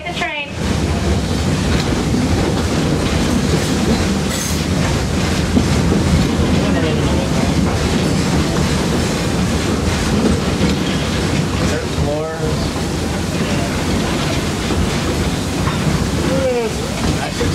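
Theme park train ride rolling steadily on rails, a continuous loud rumble of wheels and car clatter with occasional squeals, a narrator speaking over it throughout.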